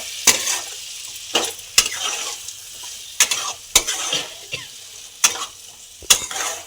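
Fried potato and pointed gourd being stirred into a sizzling pan for a festive-style pointed gourd and prawn curry, with repeated sharp scrapes of a spatula against the pan over a steady frying hiss.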